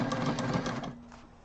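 Sewing machine back stitching on a backpack, a short close burst of rapid mechanical whirring that slows and fades within a second and a half.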